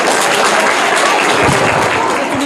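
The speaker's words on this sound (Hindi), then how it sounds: "जोरदार तालियां इनके लिए" A quiz audience in India breaks into loud, dense applause for a contestant's correct answer, a thick continuous roar of many hands clapping close by.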